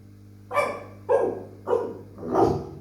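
Dogs bark four loud, close barks, spaced about half a second apart, as a sound effect in an audiobook. A low steady hum sits beneath the barks.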